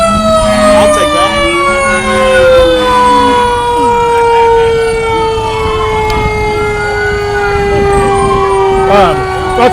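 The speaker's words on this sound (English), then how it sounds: "All these fire engines appear to be Caryville." Caryville volunteer fire engines sound their sirens in a Christmas parade, with several wailing sirens rising and falling, overlapping and sustained for the whole stretch, loud and close, with crowd noise beneath.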